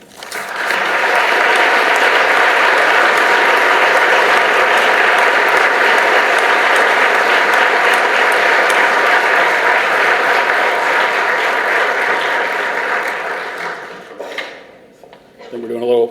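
Audience applause fills a hall at a 2022 holiday speaking event, loud, dense and sustained for about fourteen seconds before thinning out and fading near the end.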